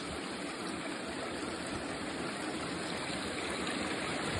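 Loud, steady roar of a waterfall in Normandy, France, filling the whole clip, a dense continuous rush of crashing water with no pauses.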